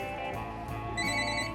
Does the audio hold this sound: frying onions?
no